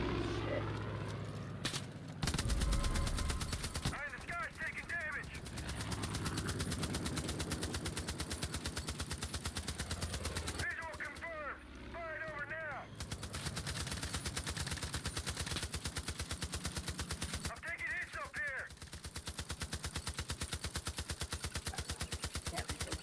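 Sustained automatic gunfire from an aircraft strafing run in Far Cry 5, dense rattling bursts broken by brief pauses, loud and continuous over game noise, with people talking over it.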